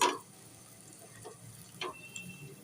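Half a cup of hot oil sizzles faintly in a pan as onions go in for an egg chingari dish, a soft hiss broken by a few light ticks and taps, with no talking.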